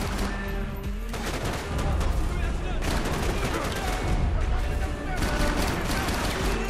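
Gunfire in the video game Max Payne 3, dense bursts of shots rattling through a loud, busy battle mix with music, steady throughout.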